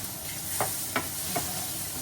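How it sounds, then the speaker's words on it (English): Vegetables sautéing in a pan, a low continuous hiss of frying with three soft stirring scrapes spaced about every half second, close and quiet, no talking. "sauteing the vegetables"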